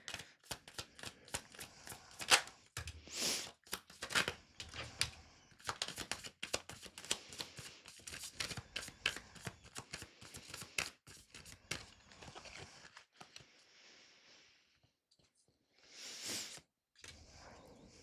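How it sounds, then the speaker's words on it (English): Tarot cards are shuffled and riffled close up in quick, crisp flutters with soft slides and taps as cards are pulled, quiet and steady, thinning out toward the end with a brief final rustle. "So let me pull some cards and just see"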